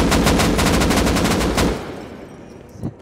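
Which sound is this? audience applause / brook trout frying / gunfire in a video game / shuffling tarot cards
gunfire in a video game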